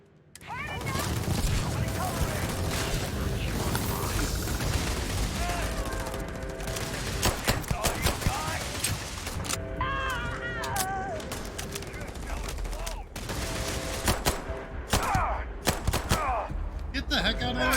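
Rapid gunfire bursts crackle through a dense, busy mix of effects during play of the video game Starfield, continuing throughout amid other clatter and game noise.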